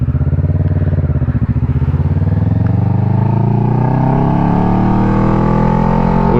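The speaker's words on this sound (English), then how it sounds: "jump on the bike and go riding" Kawasaki Ninja 650 motorcycle engine running steadily while riding, a loud continuous drone with shifting harmonic pitch as the engine settles and climbs, heard up close with no talking.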